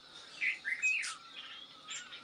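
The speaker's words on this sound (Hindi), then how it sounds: "और चिड़ियाओं की मधुर आवाज़।" Small birds chirp and tweet in a quiet Uttarakhand mountain valley village in the early morning. The calls come as a few brief, fairly faint bursts over soft background hush.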